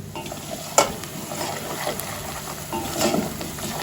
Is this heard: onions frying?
yes